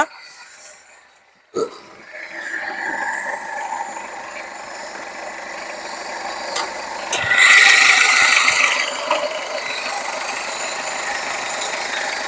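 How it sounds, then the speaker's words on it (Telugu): A Maruti Zen diesel car engine idles steadily with a rough, knocking rattle, close by with the bonnet open, briefly growing louder midway before settling back. "డీజిల్ ఇంజిన్ కాబట్టి కొద్దిగా నాయిస్ వస్తుంది"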